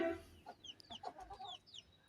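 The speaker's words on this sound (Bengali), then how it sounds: "তো রাজাবাবু কিন্তু প্রথম বাঘ দিল ওর দেখেন গলাটা কি লম্বা করে তারপরে ওই ডাকটা দেয়" A rooster on a small chicken farm gives faint, short clucking calls in a quick irregular series, heard from a distance with no one talking.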